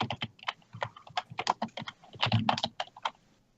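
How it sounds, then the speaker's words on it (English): Rapid, loud keystrokes clatter on a computer keyboard during an online Dungeons & Dragons session, a dense run of close clicks and clacks with uneven rhythm and no talking. "keyboard is loud."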